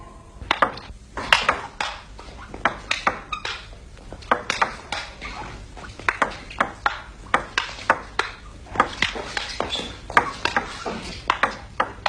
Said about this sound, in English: Or you can witness a thrilling game of ping pong.